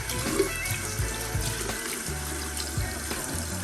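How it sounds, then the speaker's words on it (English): Hot water runs steadily from a bathroom sink tap, a continuous close splashing hiss with small gurgles and knocks as items are rinsed beneath it. "Rinse that out a little bit. I notice I'm using hot water just to get, any kind of goop or anything growing."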